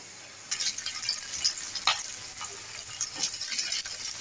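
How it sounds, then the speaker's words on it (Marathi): Garlic dropped into hot oil starts a bright, crackling sizzle that begins abruptly and continues with uneven spits and pops, fairly close and moderately loud. "आपलं तेल गरम झालंय. मी आता लसूण टाकून घेते."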